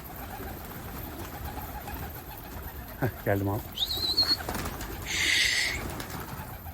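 A bird, probably a pigeon, calls overhead in short bursts over outdoor background noise, while someone speaks briefly.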